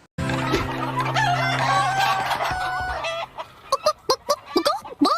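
Cartoon chickens in a hen house cluck and crow in a dense, overlapping flock chorus, then break into a run of short, sharp separate clucks near the end.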